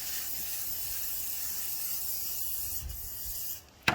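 Oil sprayed onto an oven tray for roasting vegetables in a 12-volt travel oven, a steady soft hiss lasting several seconds before cutting off, followed by a brief clack.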